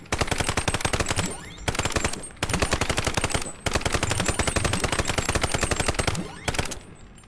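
A pistol fires in rapid, closely spaced bursts of sharp gunshots at a target on a shooting range. The loud reports come in several runs separated by brief pauses.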